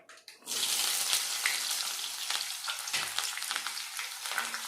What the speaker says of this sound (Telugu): ఇవి బాగా దోరగా వేయించుకోవాలండి